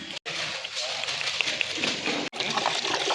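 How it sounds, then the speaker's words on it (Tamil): Water poured into tomato and spice masala for a large batch of Dindigul-style mutton biryani, a steady gushing pour with two brief breaks, heard up close at moderate level. "இப்போ வந்து நம்ம தண்ணி ஊற்றிக்கலாம்"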